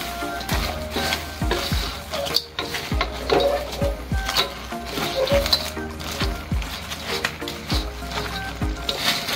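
Shrimp and crab boiling in a pot with bean sprouts get stirred with a utensil, giving repeated scraping knocks against the pot over a steady bubbling, sizzling bed, close and continuous.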